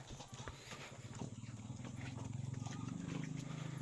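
Rapid, rhythmic hoof thuds of a horse laboring uphill through mud, a steady low pounding that grows stronger and more insistent toward the end.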